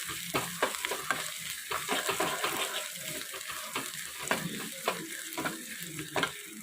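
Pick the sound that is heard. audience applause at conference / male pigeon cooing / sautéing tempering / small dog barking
sautéing tempering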